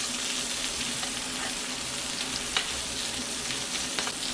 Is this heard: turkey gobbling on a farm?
no